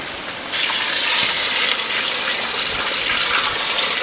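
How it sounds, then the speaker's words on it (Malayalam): Water gushes steadily into a large biryani pot being prepared with eight kilos of chicken. After a brief quiet start the pour begins abruptly, loud and close, and holds a constant rushing splash. "വെള്ളം ഒഴിച്ചു കൊടുക്കാം"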